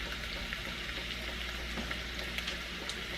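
Garlic and pork loin cooking in a pan, giving a steady, close sizzle of frying with light crackles throughout and no voices.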